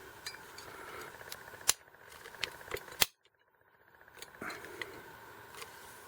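Kobalt ratcheting PVC cutter, model 58703, biting into 2-inch PVC pipe and struggling: quiet creaking and crunching with a few sharp snapping clicks, then a brief silence before more faint plastic crunching.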